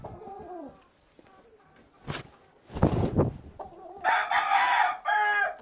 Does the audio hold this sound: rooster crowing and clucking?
yes